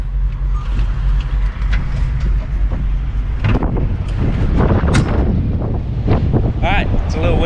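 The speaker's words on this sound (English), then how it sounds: "it's a little windy, so I don't know how well you can hear me" Loud, steady wind buffeting a microphone outdoors beside a flatbed straight truck, with a person talking over the low rumble in the second half.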